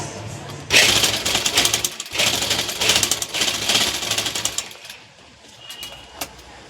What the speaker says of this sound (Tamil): தையல் போட்டுக்கோங்க. கைப்பிடி பிரியாமல் இருக்கிறதுக்கு அதே மாதிரி இங்கே